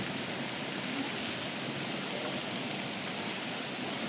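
A waterfall pouring onto small rocks, where ducks search for food at its base, produces a steady, broad rushing hiss of falling water, continuous and even at moderate distance, with no voices.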